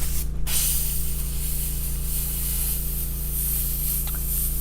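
Airbrush spraying paint onto a T-shirt gives a steady, continuous hiss that holds evenly throughout, over a constant low hum, with a brief burst of louder air near the start.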